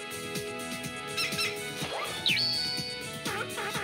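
High, cute squeaks and chirps from a small cartoon creature in Sonic Adventure, a quick rising squeal among busy game music and effects.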